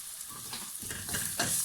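Garlic paste and spices sizzle on onions in a pan for a spicy red radish dish, a soft frying hiss with light stirring scrapes that builds slightly louder toward the end, with no talking.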